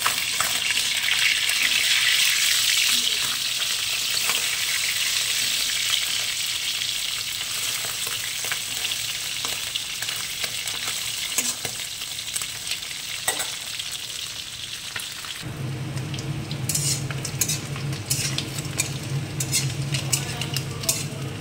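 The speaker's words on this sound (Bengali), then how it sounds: "মাছ ভাজা হয়ে গেছে।" Loud, steady sizzle of small tangra fish frying in oil, shifting partway through to a harsher crackle with scraping and utensil clatter.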